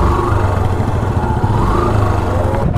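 A motorcycle engine runs steadily and loud at close range as the bike rolls down a riverbank toward a boat crossing in rural Gomostapur, Chapainawabganj, a continuous mid-pitched drone with slight clatter.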